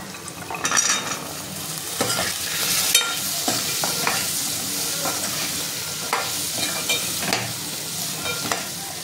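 Soaked chickpeas sizzle and fry in masala while being stirred, with steady loud crackling and scraping spoon strokes throughout.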